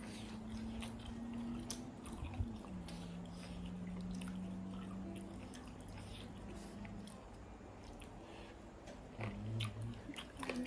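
Someone chews grilled pork neck up close: repeated moist bites and crunchy mastication in an irregular rhythm, fairly quiet, over a low steady hum.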